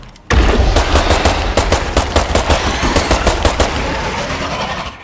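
Video game gunfire as a full magazine is emptied, a loud rapid burst of shots in quick succession that continues for several seconds with no talking.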